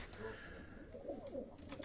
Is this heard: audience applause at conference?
no